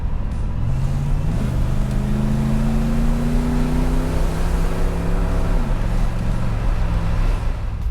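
A 1985 Chevrolet Camaro Z28 IROC-Z V8 accelerates through the gears, the engine pitch rising, stepping up at a shift, climbing steadily and then dropping, loud and close with a steady roar.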